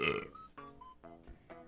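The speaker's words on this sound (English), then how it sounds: "And I just belch in his face." A man belches loudly and close up, one long rumbling burp followed by a few shorter gurgling tails, with no talk over it.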